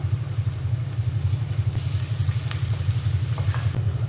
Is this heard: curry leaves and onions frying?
yes